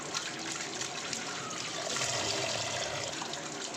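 Water runs steadily from a kitchen tap as a phasa fish is rinsed, a soft, even rushing and trickling with no voices.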